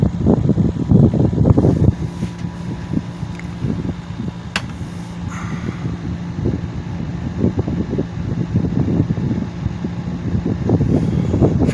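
A Kenmore heating and air-conditioning unit runs steadily with a loud, rough whooshing fan drone and uneven low rumbling pulses, heard alone up close without talk.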